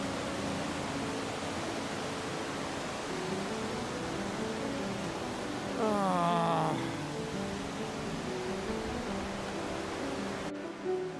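The swollen Sooke River rushes past at unusually high water, a steady broadband roar filling the scene from start to finish, with a brief voiced sound rising over it midway.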